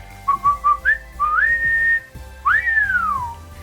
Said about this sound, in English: he'll do the charge whistle